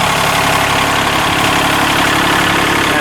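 A tractor engine runs steadily, loud and close, while backing up, giving a continuous rumbling drone with no talk.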